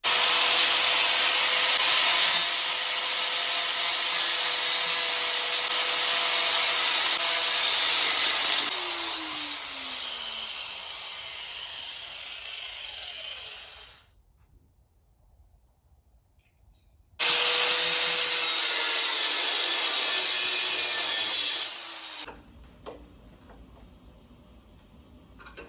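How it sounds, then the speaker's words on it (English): Angle grinder cutting through an old oil tank from a 1989 Harley-Davidson Evo Electra Glide, a loud, steady, harsh metallic grind running in two long bursts separated by a short pause, with no talking. "There was some smoke coming out of that tank when I was running the grinder"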